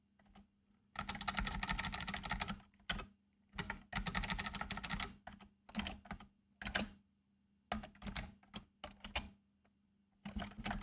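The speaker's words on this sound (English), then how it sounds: "I'm typing completely random things." Rapid typing on a computer keyboard, close and clear, in bursts of fast clattering keystrokes separated by short pauses, with no speech.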